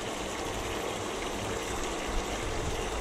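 Water gushes and pours steadily for washing the cab of a Valtra tractor, a constant close rushing hiss with no pauses or talk.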